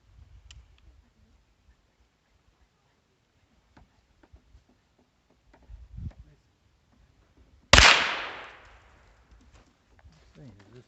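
A handgun fires once during family target shooting outdoors, a single sharp loud crack with a fading tail, set among quiet stretches with soft handling noises and brief talk before and after.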